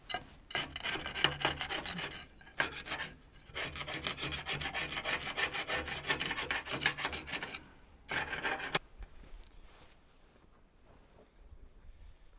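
Harsh metallic scraping as a small piece of angle iron is worked in steady back-and-forth strokes on a snow blower, close up, with a few brief pauses before it trails off into quiet near the end.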